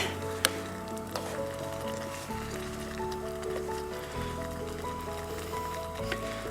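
Soft sizzling of food being stirred in a small camping pan outdoors by Thruscross Reservoir, faint and steady with occasional light clinks, no talking over it.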